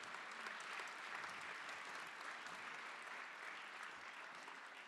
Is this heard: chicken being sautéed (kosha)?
no